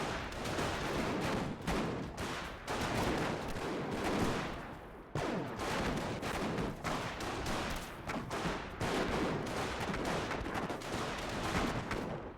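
Rapid bursts of gunfire in a World War II strategy game battle with Panzer Grenadiers and US riflemen: continuous dense crackling volleys lasting the whole stretch, with a brief gap partway through and no speech.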